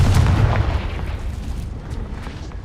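A Confringo fire spell explodes in Hogwarts Legacy: a loud, booming blast with a deep low rumble that slowly decays across the whole moment, no voices over it.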